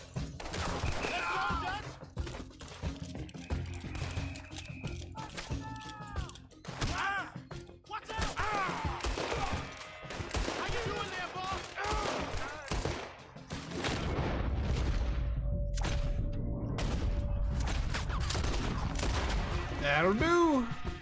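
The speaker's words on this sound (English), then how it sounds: "We're shooting everybody in the streets of Saint Denis" Gunfire rattles through the streets of Saint Denis in Red Dead Redemption 2, bursts of shots and volleys crackling over a dense mix of game sound, with a heavy sustained rumble building in the second half.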